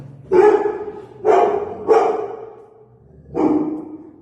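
A small pet dog barks four times nearby, sharp separate yaps with short gaps between them, heard alone with no talk.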